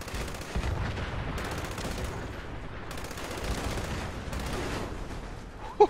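A two-shot light machine gun in Fallout 76 fires long sustained automatic bursts with a dense rattling rhythm, loud and close, broken by brief pauses.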